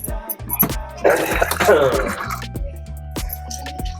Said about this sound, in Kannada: ಇದಕ್ಕೆ ನೀರು ಹಾಕತ್ತಾ ಇದ್ದೀನಿ